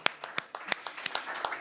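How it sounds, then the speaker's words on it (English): An audience at a forest and climate event applauds the partnership and speakers: sparse, distinct hand claps from a small crowd, moderately faint, with individual claps clearly separated. "please join me in giving a humongous clap to the partnership, to our speakers"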